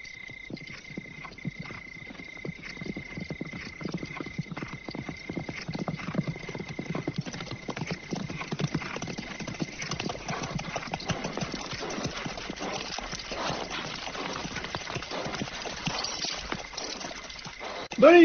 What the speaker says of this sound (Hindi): सैकड़ों घोड़े हैं